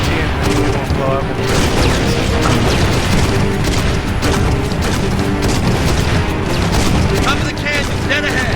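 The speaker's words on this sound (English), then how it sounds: "Oh, it's a grenade." Loud, dense blasts and rumbling booms of a grenade explosion in the Halo video game, a heavy sustained barrage of combat noise, with voices talking underneath.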